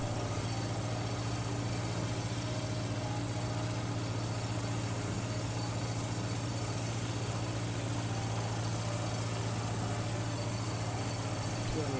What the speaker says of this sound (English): When that tractor's running, it might be hard.